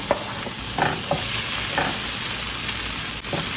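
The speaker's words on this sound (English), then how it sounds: "let that cook for about 3 more minutes until the tomatoes sweat out a little" Roughly chopped grape tomatoes cook in a pan for a cheesy steak pasta, giving a loud, close, continuous sizzle with a few stirring scrapes and no talking.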